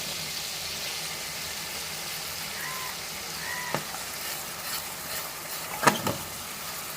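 A paste of tomato, ginger and green chili sizzles steadily in oil for a fish curry, with a constant close hiss and a few soft scrapes and taps from stirring. No one speaks.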